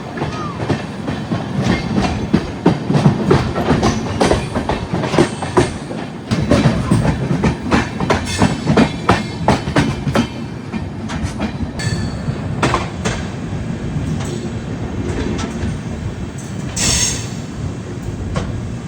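Ranakpur Express running on rails toward Pali Marwar station, with loud steady rumble, rhythmic clickety-clack of wheels over joints and occasional brief wheel squeal, continuous and close throughout without any talk.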